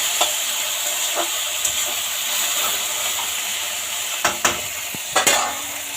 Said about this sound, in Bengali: ঢেঁড়স ভাজাটা এদিকে বসিয়ে দিয়েছি।